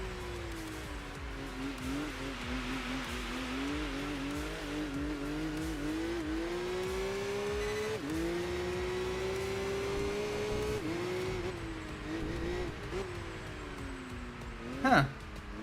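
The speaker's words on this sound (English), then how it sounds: "this thing sounds so good too in the high revving inline 6" A high-revving inline-six engine on a pro race car in Enthusia Professional Racing, holding a loud, steady drone that climbs and dips through gear changes, with a tire squeal near the end.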